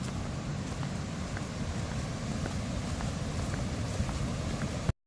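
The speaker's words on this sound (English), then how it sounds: "A series of waterfalls linking all of the islands up here." Steady broadband roar of waterfalls on the Mekong around the islands near Don Det, Laos, a continuous rushing wash heard from a distance with no speech over it.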